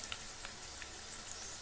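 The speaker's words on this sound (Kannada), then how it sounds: "ಈಗ ಕರ್ಬೇವಿನ ಸೊಪ್ಪು ಹಾಕ್ಕೊತಾ ಇದ್ದೀನಿ." Curry leaves hit hot oil in a pan during preparation of coconut rice, giving a quiet, fine sizzle and crackle with a few small pops over a brief moment.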